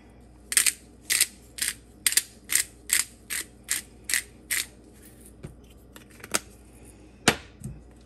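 Fresh black pepper being ground by a pepper mill over a pan-fried steak, about ten quick rhythmic ratcheting cranks close by, followed by a couple of sharper clicks.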